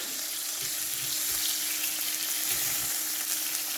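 Butter foams and sizzles around a seared steak in a hot pan, a steady loud frying hiss filling the whole stretch with a faint liquid bubbling beneath, and no talking.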